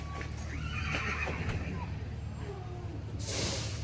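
Horse at a racetrack backstretch neighing with a loud whinny early on, mixed with hooves clip-clopping and stable bustle, under a constant low rumble of outdoor background noise.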